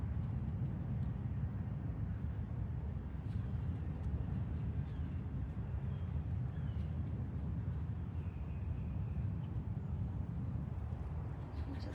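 Steady low rumble of airplanes and helicopters flying over a big cat rescue sanctuary on a morning walk, a continuous distant drone that fills the whole stretch with no clear breaks.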